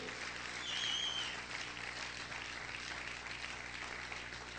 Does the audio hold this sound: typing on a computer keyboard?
no